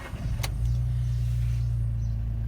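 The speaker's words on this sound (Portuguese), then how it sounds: "Vamos ligar o carro." A Volkswagen Up TSI is started: a brief starter whir, then the small engine catches and settles into a steady, close idle hum with no one talking.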